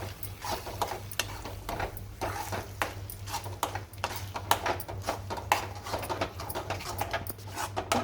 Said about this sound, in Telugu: అడుగు అంటకుండా బాగా ఇలా మిక్స్ చేసుకోండి.